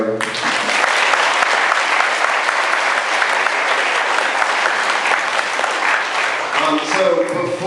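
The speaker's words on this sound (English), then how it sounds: "we're going to give him a round of applause anyway" A Sundance Film Festival audience at a Q&A for the film Frozen breaks into loud, sustained applause, dense clapping that holds steady for several seconds before easing slightly at the end.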